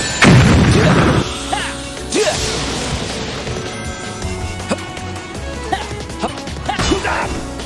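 In the Sonic GT fan game, the Egg laser fires and the machine tears itself apart. A loud opening crash and boom is followed by scattered metallic bangs and pops as the wreckage breaks up.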